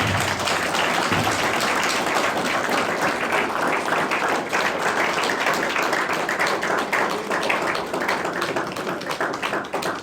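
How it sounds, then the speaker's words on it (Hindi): Sustained applause from a congregation at a holy mass during a final profession of vows for nuns, a dense, steady wash of many hands clapping for the whole stretch that tapers slightly toward the end. "तालियां बजा के"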